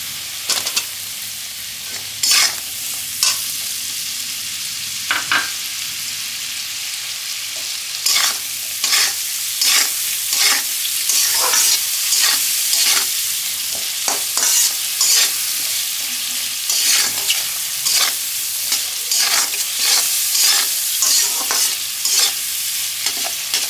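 Capsicum and katla fish pieces stir-frying in a pan for restaurant-style chilli fish, a constant sizzle broken by repeated sharp scraping strokes of a spatula, close and fairly loud, no talk.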